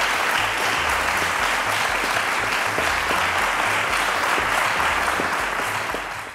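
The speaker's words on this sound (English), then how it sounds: "Let's give them a round of applause to encourage them" A studio audience at a televised math quiz show claps in a loud, continuous round of applause, steady throughout and fading out at the very end.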